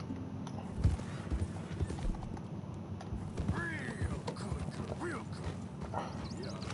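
Horse hooves in Red Dead Redemption 2 clip-clop steadily at a walking pace over a busy background of ambient noise, with a faint whinny-like sound in the middle.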